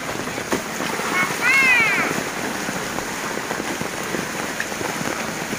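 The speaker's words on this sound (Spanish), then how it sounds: "ya empieza la lluvia a crecer más" Heavy hurricane rain from Hurricane Nora pours down in Acapulco as a steady, dense hiss throughout, with a brief high, squeaky call rising over it near the middle.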